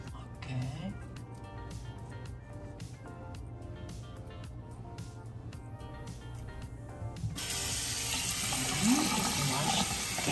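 A bathroom tap runs while someone washes their face after shaving. A person talks over low background noise first, then the water bursts on in a steady, close rush for the last few seconds.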